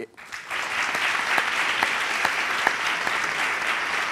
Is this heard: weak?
yes